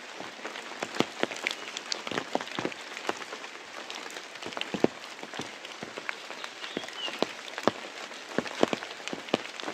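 Steady rain patters down on a surface, with frequent sharper drops tapping nearby throughout, no voices.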